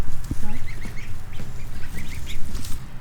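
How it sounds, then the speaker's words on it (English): A small flock of backyard chickens clucks and calls nearby, with repeated short, rhythmic vocalizations and some scratching and movement around them. "These are our original 5 chickens."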